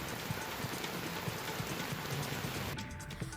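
Heavy dawn rain pours over Navi Mumbai in a dense, steady roar with soft repeated thuds beneath, easing slightly near the end.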